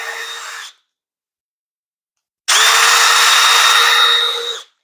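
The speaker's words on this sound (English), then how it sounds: "we're just going to drill until we can see the cutting board." Power drill drills holes into a plastic garden tower in two loud bursts, a short whine that cuts off, a pause of silence, then a longer steady run that winds down, with no talking.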